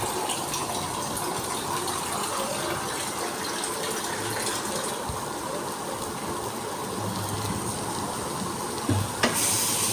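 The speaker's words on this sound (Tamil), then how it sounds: "ஸோ இப்போ தண்ணி வந்து 1 சொம்பு நம்ம ஊற்றிக்கலாம்." A vessel of water is poured into a pot of colocasia (taro root) curry, making a continuous steady gushing rush close by that ends with a small clatter.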